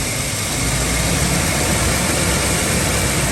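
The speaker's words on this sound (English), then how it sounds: "It tries to cut off, but it catches back idle." A Ford 5.4 V8 truck engine in an F-250/F-350 idles loudly and continuously close by, with a rough, uneven, sputtering note as it nearly cuts off and then catches back to idle.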